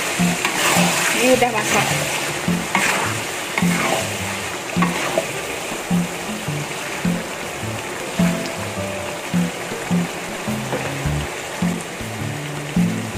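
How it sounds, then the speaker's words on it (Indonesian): Jengkol frying in oil in a pan while being stirred, a steady sizzle with repeated scraping strokes of the stirring throughout, and a few words spoken early on. "Kita aduk sebentar dulu."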